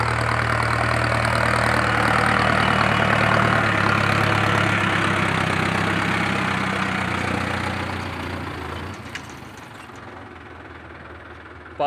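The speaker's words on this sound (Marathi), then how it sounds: "विनोद म्हणते या गड्ड्यातून ट्रॅक्टर टाकू का." A tractor engine idles in a farm field beside a flood-prone stream, with a loud, steady, low rumble that fades and drops off near the end, alone and without talk.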